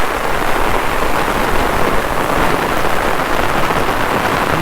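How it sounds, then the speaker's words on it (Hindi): Heavy rain pours steadily over a rice paddy, forming a dense, loud, even hiss with no pauses. "मैं आप लोग को दिखाना चाहूँगा कि कितनी तेज़ बारिश हो रही है"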